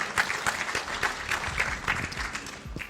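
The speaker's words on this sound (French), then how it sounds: "vous pouvez vous applaudir une deuxième fois" Audience applause fills the hall at a public astronomy talk, a steady wash of many hands clapping at moderate volume that holds for about three seconds.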